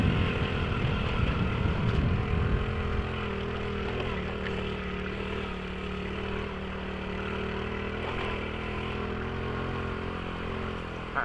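A 1997 Honda 50R dirt bike's small engine drones through laps, a steady buzzing hum that is louder and rougher in the first few seconds, then settles to an even, slightly distant tone.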